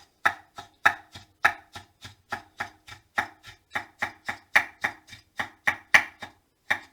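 A knife chops homemade pickles on a cutting board in a steady run of about twenty crisp, evenly spaced strokes, close and clear with no talk.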